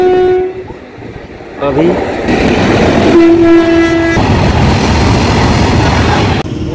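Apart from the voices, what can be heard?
moving train with horn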